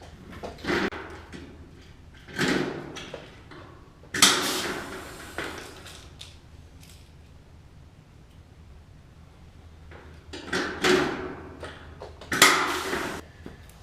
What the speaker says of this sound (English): It's the crows jumping on the roof.